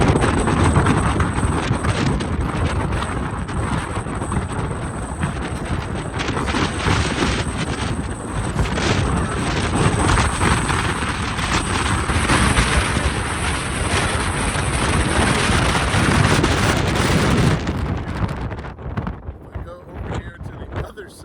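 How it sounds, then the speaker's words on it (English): Strong wind roars and buffets a microphone on a cliff top for about seventeen seconds, loud and broadband with gusty surges, before easing off into quieter wind near the end. "I'm gonna show you how windy it is when I step up here"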